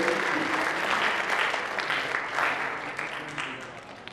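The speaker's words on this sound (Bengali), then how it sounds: "সবাই একটু জোরে করতালি দিবেন।" An audience at a commemorative stage performance in Magura claps together in sustained, moderately loud applause that tapers off toward the end.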